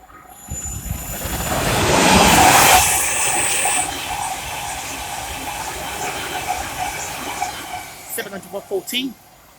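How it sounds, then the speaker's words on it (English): A Thameslink Class 700 electric train passes Welham Green station on the East Coast Main Line, its broad rushing roar swelling to a loud peak early and then fading, with voices and small knocks near the end. "the first train to pass by is a Thameslink 700"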